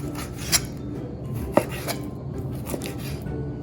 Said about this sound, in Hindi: इनके छोटे छोटे टुकड़े कर लें, चौरस चौरस सब चीज़ों के, सब चिकन के।